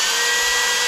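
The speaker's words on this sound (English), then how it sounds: "A belt sander." A belt sander runs on power from a Bluetti AC200P power station at an off-grid log cabin, a close, steady, whining, abrasive drone with no break and no voices.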